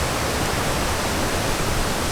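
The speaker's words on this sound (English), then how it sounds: "It's a bit disconcerting to listen to that river and know I probably have to cross it here soon." A river rushing near a wilderness stretch of the Appalachian Trail, a loud, dense, unbroken roar of water with no voices.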